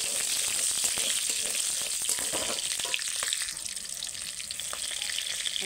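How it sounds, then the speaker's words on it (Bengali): Cumin seeds tempering in hot oil crackle with a loud, dense sizzle that stays strong and then eases slightly toward the end, with no talking. "এবার ফোড়নটা দিয়ে দেবো। দিয়ে একটু জিরে দিয়ে দেবো।"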